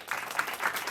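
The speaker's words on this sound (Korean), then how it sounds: "우리 8분의 선생님에게 큰 격려의 박수 부탁드리겠습니다." Short burst of audience applause for teachers at a school curriculum briefing, a steady spread of many hands clapping at moderate volume for under a second.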